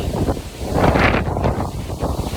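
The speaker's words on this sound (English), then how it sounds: "It's getting windy." Steady gusting wind during Caribbean hurricane season buffets the microphone with a broad, rumbling roar that swells and eases without a break.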